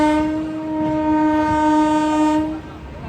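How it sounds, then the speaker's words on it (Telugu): A train pulls into Visakhapatnam Junction, its loud horn blaring steadily for about two and a half seconds, close and dominant over rumbling rail noise. "ఈలో బండి వచ్చేసింది"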